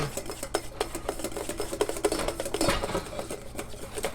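A whisk scrapes and taps rhythmically against a bowl while clarified butter is worked into egg sauce for eggs Benedict, a steady close clatter of metal strokes with no talking.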